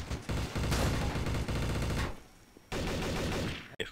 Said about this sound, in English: As I hear shotgun shells. In the distance.